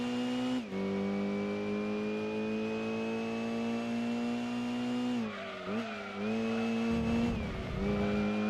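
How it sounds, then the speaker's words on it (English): A Mazda RX7 in Gran Turismo 2 drifts with a long, steady engine drone and a sustained tire squeal, the pitch wavering and dipping near the end as the car slides and recovers. "That's drifting."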